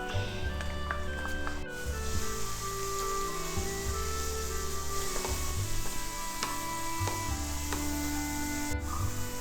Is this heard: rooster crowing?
no